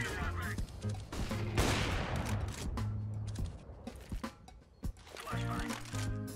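Shooter video game gunfire, with rapid bursts of shots and clattering mechanical sounds over a low hum, loud at first and then more scattered with brief pauses.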